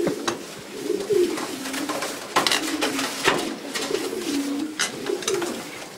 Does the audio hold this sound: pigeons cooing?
yes